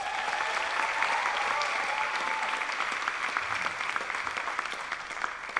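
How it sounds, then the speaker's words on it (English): A theatre audience at a live storytelling show in Nairobi claps warmly, sustained applause that holds steady and then eases slightly toward the end. "please can I hear a warm round of applause?"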